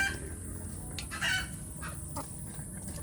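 Free-range Indonesian village chickens, including young hens that have started laying, cluck close by over a steady outdoor hum, with a louder burst of calls near the middle.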